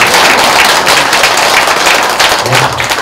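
A crowd claps steadily for visiting monks at a Buddhist eye-opening ceremony for a Guanyin hall at Baekbongsa temple in Mungyeong, producing a dense, continuous patter of many hands throughout.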